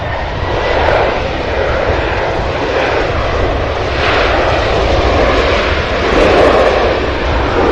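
An airliner passes at Cincinnati/Northern Kentucky airport in a crosswind, its engines giving a loud, steady broadband roar that swells slightly and holds for the full duration, with no talk over it.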